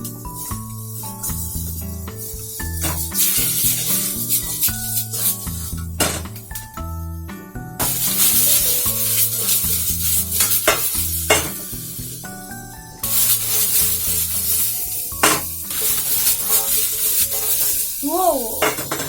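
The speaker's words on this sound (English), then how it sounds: "now I'm gonna add in some tomatoes" Tomatoes dropped into a hot pan for vegan pasta set off loud, continuous sizzling and frying crackle, with stirring and clinks of utensils against the pan throughout.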